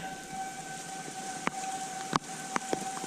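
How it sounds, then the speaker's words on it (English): A distant civil defense siren for a tornado warning holds a steady wailing tone during a storm while sharp clicks and knocks pop up nearby, with no speech. "Hearing the sirens going off like this, it's kind of crazy"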